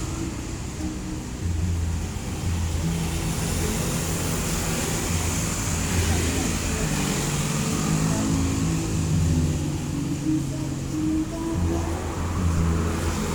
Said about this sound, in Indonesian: bus akan segera melanjutkan perjalanan.